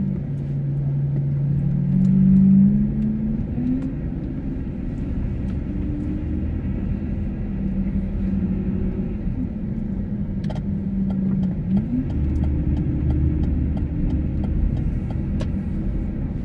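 A car's engine runs while it drives, a loud, steady low rumble with shifting engine tones throughout.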